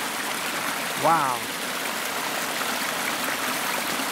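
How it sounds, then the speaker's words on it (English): A brook in a rainforest in the Alaskan panhandle flows with a steady, close, continuous rushing wash during the March ice melt, while a man gives a brief exclamation partway through. "That brook almost looks like a creek."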